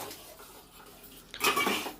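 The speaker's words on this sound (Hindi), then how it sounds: "मैं बर्तन वगैरह को साफ़ कर लूँगी।" Dishes, pots and utensils being washed by hand in a home kitchen: a faint soft scrubbing, then a burst of close metallic clinks and clattering near the end, with no talking.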